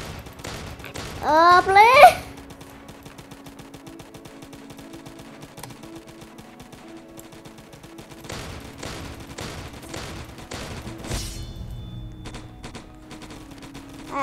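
Shots from a new gun in a Roblox zombie game ring out in short clusters of rapid reports, mostly in the latter half, with a brief loud spoken voice near the beginning.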